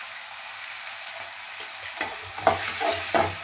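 Tomatoes with salt fry in a pan, a steady close sizzle with a few scraping stirs near the end and no voices.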